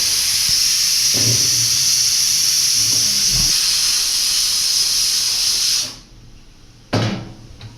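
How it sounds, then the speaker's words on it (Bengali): A pot of dal boils on a home stove, giving a loud, steady steamy hiss that stops abruptly near the end. A few dull knocks and one short burst of noise follow. "ডাল সিদ্ধ হচ্ছে"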